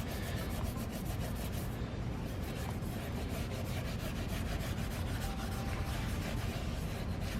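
A scuff pad scrubs an engine cylinder head in steady, fast back-and-forth strokes, a continuous close rasping rub throughout with no talking.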